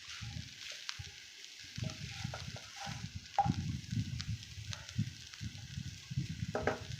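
Sura puttu is stirred in a frying pan, with repeated scraping strokes and a soft, steady sizzle in a quiet kitchen and occasional light clinks of the utensil against the pan.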